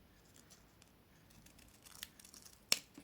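Scissors cut a paper card for a 3D greeting card, soft crisp snips and rustling that build to a sharp closing snip near the end, close and quiet.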